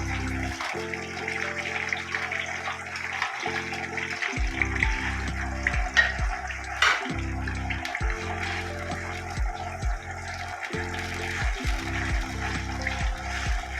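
Masala fries in hot oil in a pan for cauliflower chicken curry, a steady close hiss and crackle running throughout with a rhythmic low thumping in the background and no talk.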